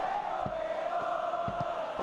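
Continuous broad roar of a football crowd cheering in a video game match, steady and loud throughout, with a few faint low thuds beneath.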